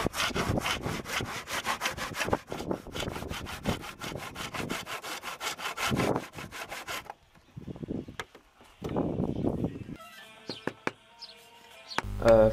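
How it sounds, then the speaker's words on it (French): A handsaw cuts through the wooden end of a Les Paul style guitar neck with rapid, rhythmic back-and-forth strokes, loud and close. Near the end the sawing stops and is followed by quieter handling noises and a few clicks. "Je découpe ensuite le bout du manche"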